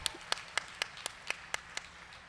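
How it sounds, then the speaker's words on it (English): Applause at a college commencement ceremony: roughly eight sharp, evenly spaced claps ring out alone over a quiet hall backdrop, as if from a single nearby person. "I have to give him a big round of applause"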